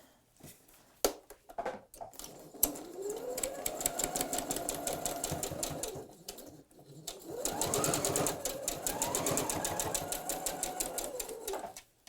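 A sewing machine stitches a grocery bag strap in two long close runs of rapid, even needle strokes, with a short pause and a few clicks between them and no talking.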